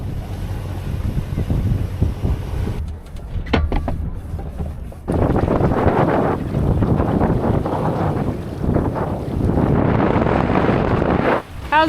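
Strong gusts of wind batter a sailboat under way at sea in lumpy, bumpy water, a loud, rushing roar that swells and ebbs in surges with constant buffeting across the whole clip.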